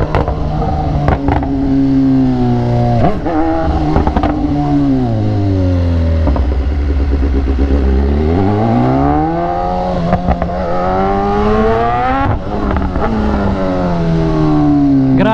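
A BMW S1000R motorcycle engine revs up and down continuously up close, pitch sweeping through blips and downshifts with a steady, loud drone throughout.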